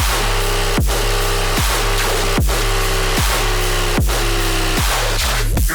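A heavy dubstep drop variation plays with booming sub-bass and falling pitch wobbles, punctuated by hard snare hits roughly every beat and a half over dense, gritty noise. The mix is loud and continuous throughout.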